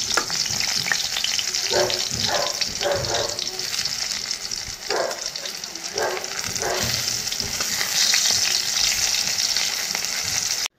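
Sliced ash gourd fries steadily in a pan with a continuous close sizzle, broken by a few short bursts of stirring, with no voices over it.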